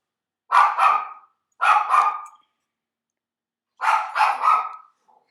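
A pet dog barks indoors at a window in three bursts of two or three sharp, fairly close barks separated by short silences.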